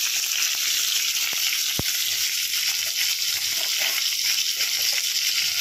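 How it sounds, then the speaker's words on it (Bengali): Spices and turmeric fry in a pan of hot oil with an even, close sizzle, broken by a couple of sharp clicks. "এভাবে ভালো করে ভেজে নেবো।"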